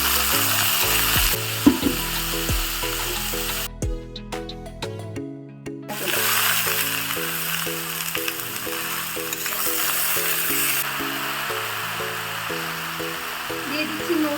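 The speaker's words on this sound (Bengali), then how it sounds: "পেঁয়াজ কুচি দিয়ে দিচ্ছি, লঙ্কা ফাটানো, দিয়ে দেবো বেগুনগুলো।" Eggplant pieces fry with chopped onion and split chili in a pan, a loud continuous sizzle over background music, briefly dropping out midway before the hiss returns.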